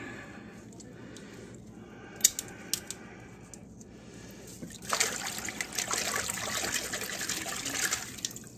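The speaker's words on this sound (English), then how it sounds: "Just shake it around in that water." Water sloshes and trickles as a black cohosh root is shaken around in it to wash off dirt, growing louder and busier in the second half, with a few small knocks.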